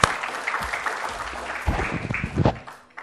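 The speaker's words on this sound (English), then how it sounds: "Big round of applause." An audience at a Smashup Tech Edition event applauds a speaker: short, uneven clapping in a room, with murmurs and low thumps mixed in, fading near the end.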